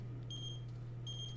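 A phone rings in The Sims 4 as two short electronic high-pitched trills, spaced apart, over a steady low hum of game background.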